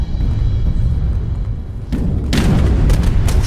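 Loud heavy booms of cannon fire in Age of Empires III, a deep rumbling blast followed moments later by another sharper boom, thick low rumble throughout.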